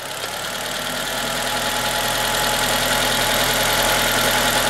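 A Nissan engine rising from idle as it is revved, a steady, loud mechanical drone that builds slightly in intensity across the few seconds, with no voices.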